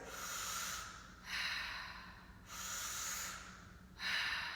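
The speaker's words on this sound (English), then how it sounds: "It's like you're drinking through a thick straw and then just let the exhale go." Slow, deep breaths drawn in and let out through the mouth, four airy hissing cycles in a steady rhythm, close and alone.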